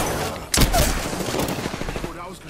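Apex Legends gunfire erupts in a sudden loud burst of rapid shots, then continues as a dense rattle with voices underneath.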